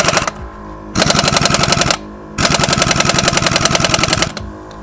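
Bursts of a pneumatic impact wrench driven by a Viair 444c on-board compressor, loosening truck lug nuts: two loud, rapid hammering runs of about a second and two seconds, separated by quieter gaps of compressor hum.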